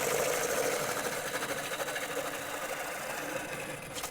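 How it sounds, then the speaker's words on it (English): Steady, continuous broadband hiss and rumble of a bowl gouge push-cutting into a spinning wooden bowl on a lathe while hollowing, with the cut sweeping toward the center and no pauses. "pick up a shaving and push the gouge to the center of the bowl"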